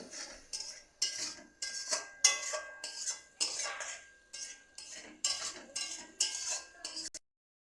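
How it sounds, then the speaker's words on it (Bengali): A spatula scrapes and knocks against a kadai as vegetables with added water are stirred: about a dozen close, rhythmic strokes, each a short metallic scrape, then the stirring stops. "এবার জল দেওয়া হলে আবার নাড়ছে"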